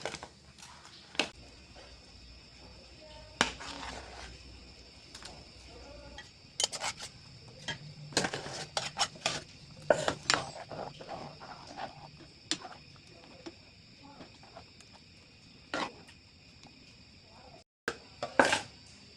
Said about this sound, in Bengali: এখন আমরা আলুগুলো ম্যাশ করে নেব